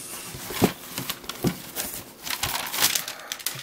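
Crumpled packing paper from an eBay parcel sent from France rustles and crinkles in uneven bursts while the box is unpacked, close by and fairly quiet, with no talk.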